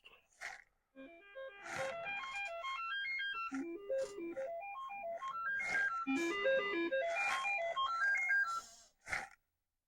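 Bright Commodore 64 synth tones step up and down in quick melodic runs, a chiptune-style sound test sequence playing alone with short gaps at start and end.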